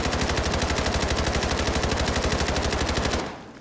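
A fast, even automatic burst from a gun on the firing range in Delta Force, rapid evenly spaced shots holding loud and close for about three seconds before cutting off into a short fading tail.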